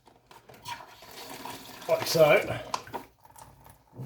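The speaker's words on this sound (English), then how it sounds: "So I'm going to actually put some water in that" Water poured into a gold paydirt bag indoors, a short splashing burst mid-clip between bits of nearby talk.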